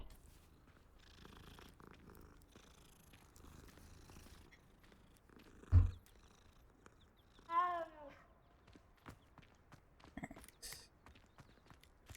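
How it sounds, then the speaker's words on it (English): Cat in Hogwarts Legacy purring softly and steadily, with a short meow in the middle and light footsteps around it, fairly quiet and close. "Kitty."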